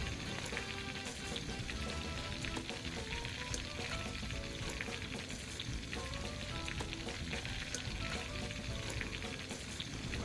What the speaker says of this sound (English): your shrimp goes into your saute pan